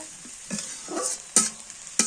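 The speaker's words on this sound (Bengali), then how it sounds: "এই যে তেলের মধ্যে ভাজা হইতেছে" Turmeric powder frying in hot oil for a lentil dal with mashkalai, a soft sizzle broken by a few sharp stirring scrapes and clinks against the pan, close and fairly quiet.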